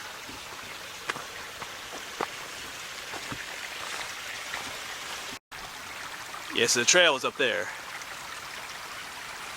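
Steady broadband rush of flowing creek water runs throughout, at Shenk's Ferry Wildflower Preserve in Lancaster County, Pennsylvania, with someone talking briefly near the end.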